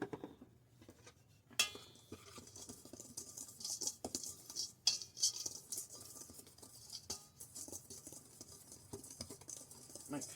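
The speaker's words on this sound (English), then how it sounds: "Make sure it's all whisked together very well." Herb bread dough ingredients whisked in a bowl, a quiet patter of light scraping and tapping strokes with a few sharper clinks against the bowl.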